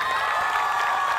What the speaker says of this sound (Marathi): तुमच्यासाठी एकदा जोरदार टाळ्या.